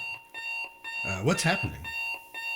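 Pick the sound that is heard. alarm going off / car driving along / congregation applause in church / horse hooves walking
alarm going off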